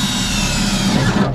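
A power drill whirs steadily and close as it bores into a Plymouth Fury's fender well, a brief continuous grinding buzz with no talk over it.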